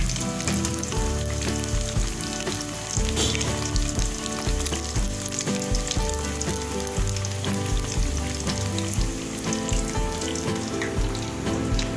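Food frying in hot oil in a pan, a steady, dense sizzle and crackle of water reacting with the oil, close and continuous throughout with no talking.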